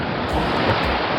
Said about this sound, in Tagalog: High tide. Malapit yung dagat.